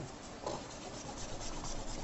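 A rubber eraser rubbed back and forth to clean dirt off a project part for a variable-voltage symmetric power supply, giving a close, steady scrubbing rasp with no speech.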